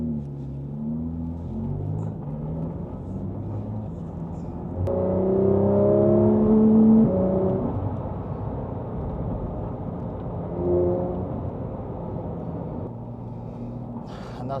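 Supercars in the Dolomites rev and pull away, a rising, swelling engine roar that builds to a peak midway before easing off. A second smaller surge follows over a steady low rumble, with no voices.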